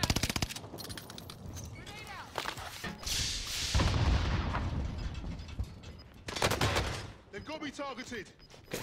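Battle royale gunfire crackles in short bursts and scattered rapid shots, mixed with mechanical clicks and game effects, while players talk over the action.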